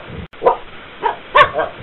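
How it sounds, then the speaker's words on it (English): A dog barks three times in quick, separate bursts, close and fairly loud with a little whimpering yip quality, alone with no talk. "It is a dog and the dog barks."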